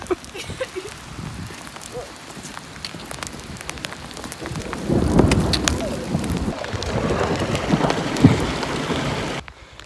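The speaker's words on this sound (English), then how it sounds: "The hail has gone from BBs to the size of marbles." Marble-sized hail pelts down without a break on a high-altitude hiking trek in Peru, a dense close rattle that swells and grows louder partway through, with wind noise against the microphone.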